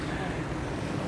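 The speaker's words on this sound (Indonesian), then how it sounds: "Ada ombak." A brief wash of ocean waves in Europe with wind buffeting the microphone and a low rumble, like water heard from a moving boat.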